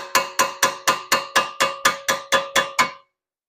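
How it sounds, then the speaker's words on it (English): Twelve evenly spaced metallic hammer strikes on a pry bar driven into a gap during a Volkswagen GTI wheel bearing replacement ring out in a steady rhythm, each with a short bright ring, close and loud, then silence. "I'm going to hammer it in there,"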